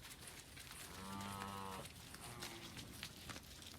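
A milk cow moos once, a long, strong bellow held for close to a second in a farm barn, with steady barn noise around it and a faint second low call after it.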